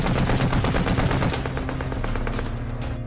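Dense, rapid machine-gun fire from a war film about Soviet troops fighting Germans: a loud, continuous burst of crackling shots that thins out and fades toward the end.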